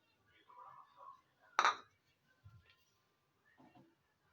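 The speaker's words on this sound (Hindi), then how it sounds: "अंडा एक एक करके डालेंगे ताकि अगर एक अंडा खराब हो तो दूसरा अंडा हमारा खराब ना हो जाए" Eggs are cracked one at a time into a bowl, giving a few sharp clinks against the rim and soft wet plops, spaced apart and close in a quiet room.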